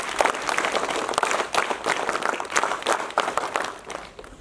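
NCC cadets at a school Toastmasters club event applaud in a steady burst of group clapping, close and lively, lasting several seconds without speech over it.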